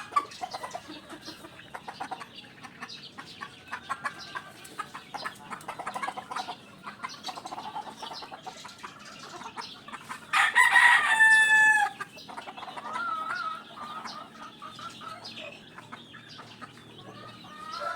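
A white BH gamefowl hen clucks repeatedly in a farm pen while looking for a place to lay eggs, soft scattered clucks throughout with a louder burst of rooster crowing in the middle and faint rustling, no talking.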